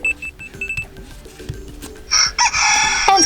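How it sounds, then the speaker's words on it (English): A rooster-crow alarm tone plays from a TCL Tab 10L tablet, starting with short beeps and then a loud, bright crowing call close to the device. "I will go with rooster alarm"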